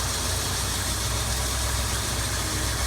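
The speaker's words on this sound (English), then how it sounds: "Now we've heard the car run" Engine of a used car idling steadily, a loud, close, even rumble with a faint rhythmic knock throughout and no voices.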